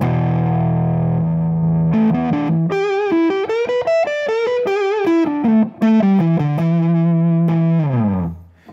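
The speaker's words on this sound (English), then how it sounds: "now we're gonna switch to the distorted channel so you guys can hear how these tones work in a distortion" A loud distorted PRS McCarty 594 electric guitar on its rhythm pickup plays a sustained note, then a run of melodic notes climbing and falling, ending on a held chord that fades.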